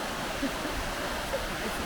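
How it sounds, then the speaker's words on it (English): Waterfall in a valley in Iceland, heard as a faint, steady, even hiss of falling water, continuous throughout with no other clear sounds. "come across another waterfall"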